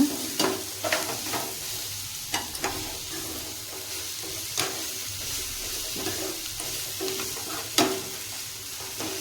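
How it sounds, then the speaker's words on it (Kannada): Cluster beans fry in a pan, a steady sizzle running throughout with sharp scrapes and stirs of a utensil recurring every second or so, close and moderately loud, no voices. "ಇದು ಇದರಲ್ಲೇ ಸ್ವಲ್ಪ ಫ್ರೈ ಮಾಡೋಣ."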